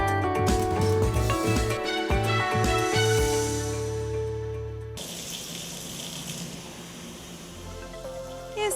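Tap water from the municipal supply in Itu, São Paulo, gushes in a steady, close-up splashing hiss during the second half, following a tonal, ringing passage.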